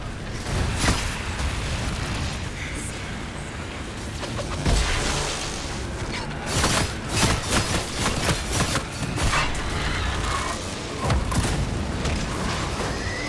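A fire spell attack in Dragon Age Inquisition erupts in a string of booming blasts and pops amid continuous rumbling combat noise, loud and close throughout.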